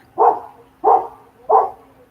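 Neighborhood dogs bark outdoors, three evenly spaced barks at moderate distance, loud and clear against a quiet background.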